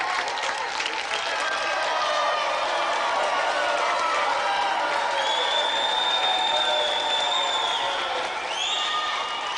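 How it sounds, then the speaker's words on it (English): A TV game-show studio audience breaks into sustained applause, a dense, loud wash of clapping with a few whoops and cheers rising near the end, lasting the whole stretch without pause. "give him a round of applause."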